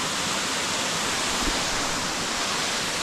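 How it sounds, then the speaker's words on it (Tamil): Water pours down the Todtnau waterfall in the Black Forest, Germany, as a constant close roar of broadband rushing that never lets up, with no talk over it. "பால் கலரில் தண்ணி ஊற்றுது பாருங்கள்."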